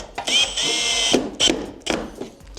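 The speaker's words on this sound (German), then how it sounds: "schrauben einmal hier die Platte fest" A power screwdriver drives screws into a standing seam metal roofing plate in short whirring bursts, three close, loud runs with brief pauses between them.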